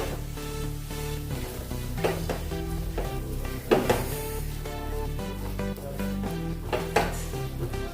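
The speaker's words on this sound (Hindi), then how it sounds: "बेसन को भी थोड़ा सा भूनना है, बेसन का भी कच्चापन हम निकालेंगे।" Spiced masala with gram flour, salt and turmeric fried and stirred in a pan for a dhaba-style green peas curry: intermittent scraping stirs and soft frying sounds, with a few sharper clanks, under steady background music.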